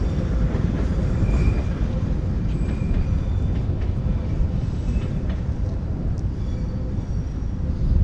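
A London Underground Northern Line train passes in the Morden area, a steady loud rumble with faint rail squeals that persists throughout, heard outdoors with no talking.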